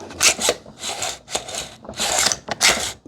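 A rifle bolt carrier group slides back and forth several times, producing short rasping scrapes in an uneven rhythm, close and fairly quiet.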